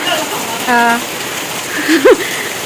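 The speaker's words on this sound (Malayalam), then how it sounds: "നല്ല മഴയാണ്" Steady rain hisses across the whole clip while voices speak briefly over it.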